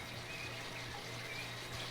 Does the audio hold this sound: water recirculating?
yes